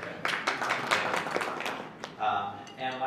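An audience at a China-focused town hall event breaks into a short round of clapping, a dense patter of hand claps that fades after a couple of seconds as a voice comes in.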